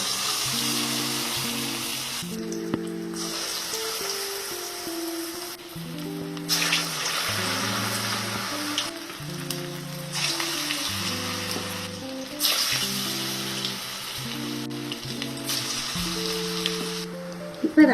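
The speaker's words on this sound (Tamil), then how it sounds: "இப்போ நம்ம ரெடி பண்ண மாவை அதுல சின்ன சின்ன உருண்டையா உருட்டி போட்டுக்கலாம்." Small balls of bonda batter fry in hot oil in a kadai, giving a steady, close bubbling sizzle that holds throughout. Intermittent clinks and scraping from a utensil break through it, and music plays underneath.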